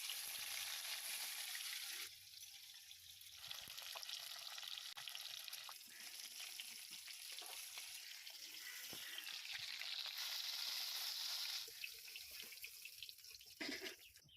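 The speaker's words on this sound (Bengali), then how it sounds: "মাছ দিয়ে দেবো আমি তেলে।" Pieces of mrigel fish frying in hot oil give a steady, bright sizzling hiss that swells and eases over several seconds, with light clatter and no talking.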